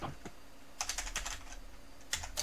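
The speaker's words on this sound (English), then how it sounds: "The clickety click was me typing." Quick clicks of typing on a computer keyboard, a few short bursts of keystrokes close by and fairly quiet, with no talk.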